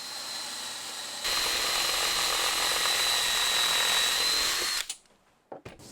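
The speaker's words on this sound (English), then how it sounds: "I can get this clamped in place and drill down" A handheld power drill bores a hole through a clamped drill guide while making a handmade Valentine's gift, a steady, close whine for several seconds that cuts off with a few faint knocks after.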